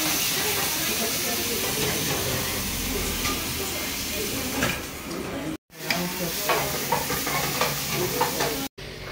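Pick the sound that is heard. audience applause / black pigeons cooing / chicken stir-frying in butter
chicken stir-frying in butter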